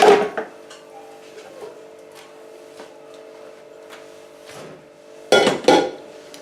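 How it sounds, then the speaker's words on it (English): A mucky pan being washed up by hand: clattering pot and pan knocks at the start and again near the end, with quieter rubbing and faint clinks in between, no talking. "get your arm right in with the scratchy side of a sponge and just scrub it basically"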